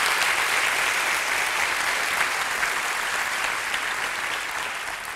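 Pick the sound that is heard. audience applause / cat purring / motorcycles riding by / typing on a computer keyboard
audience applause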